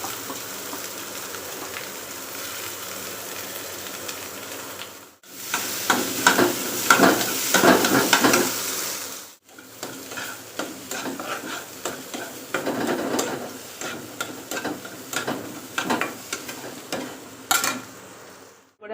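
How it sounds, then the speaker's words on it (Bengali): Potatoes fry in a pan with cumin, onion, asafoetida and green chillies, a dense close sizzle with stirring scrapes throughout. Two abrupt breaks interrupt the sound. "এখন ফ্রাই করে নিচ্ছি ফ্রাই করে নেওয়ার পরে এখন আলুগুলো ঢেলে দিব"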